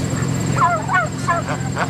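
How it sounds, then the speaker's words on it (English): Several short, warbling calls from Bourbon Red turkeys sound at close range on a farm over a low steady hum, a quick series of gobbling chirps. "And those guys were turkeys."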